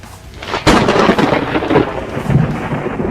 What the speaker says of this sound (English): second lightning strike